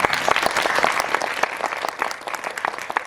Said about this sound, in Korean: 다시 한번 이 팀에게 박수 부탁드립니다